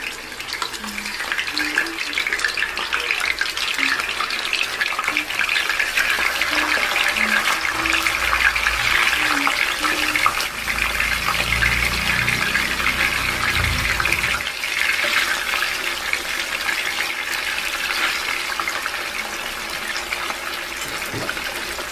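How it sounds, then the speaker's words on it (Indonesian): Marinated chicken pieces frying in hot cooking oil give a steady, close sizzle and crackle that runs throughout, with a few clinks and stirring sounds mixed in and no talking. "Kemudian ini kita panaskan minyak goreng. Kita goreng dulu ayam yang tadi udah dimarinasi."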